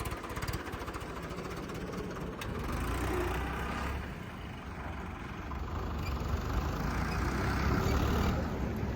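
A heavy diesel tractor engine idles with a steady low chugging rumble, fairly faint and distant, swelling slightly toward the end.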